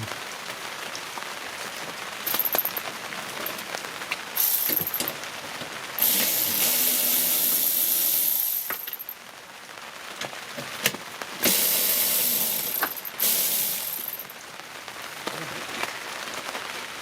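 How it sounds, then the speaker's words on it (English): Rain falls steadily and patters on a surface, with heavier bursts of downpour swelling and fading at intervals, close and continuous. "It's raining."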